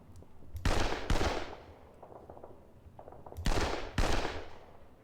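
Artillery in the wargame Panzer Campaigns Donbas 43 strikes in two pairs of loud booming blasts with rumbling decay between them, close and without voices.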